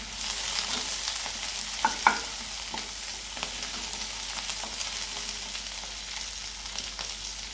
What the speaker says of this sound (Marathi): कट करून घेतलेला कांदा, थोडंसं फ्राय करून घ्यायचं